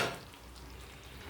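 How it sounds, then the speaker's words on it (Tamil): Fried paneer goes into simmering gravy in a pan, giving a steady close sizzle and soft stirring noise, loudest at the start and then settling to a constant bubbling hiss. "இப்போ நம்ம ஃப்ரை பண்ணி வச்சுருக்கிற பன்னீரை அப்படியே இதில் ஆட் பண்ணிக்கணும்."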